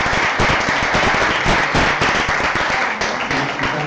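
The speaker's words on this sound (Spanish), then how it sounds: "Les damos un aplauso por organizar esto" Audience at a literary congress honoring Vallejo gives loud, dense applause, a steady close wash of many clapping hands with no break for its full length.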